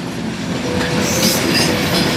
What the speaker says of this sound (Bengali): এই যে ট্রেনটা আসছে, এই ট্রেনটা কিন্তু মিটার গেজ লাইনে